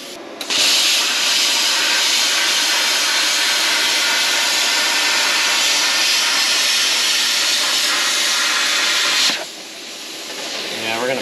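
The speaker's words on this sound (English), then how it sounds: "This is a pilot arc unit." Pilot-arc plasma cutter slicing through metal during a cab-to-chassis swap on a Grand Marquis, a loud steady roaring hiss held for about nine seconds before cutting off, followed by quieter shop noise.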